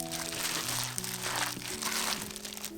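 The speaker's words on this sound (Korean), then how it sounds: "넓은 볼에 담고 다진 마늘, 들기름, 조청, 레몬즙, 소금 넣고 조물조물 묻혀주세요." Steamed vegetables hand-tossed in a wide bowl with minced garlic, perilla oil, grain syrup, lemon juice and salt give off soft, continuous wet crinkling and squelching close by, with faint music underneath.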